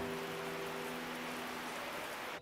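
Steady rain falling outdoors at a French château, a dense, even hiss of drops that holds constant throughout and fades out at the very end, with a faint low hum underneath at first.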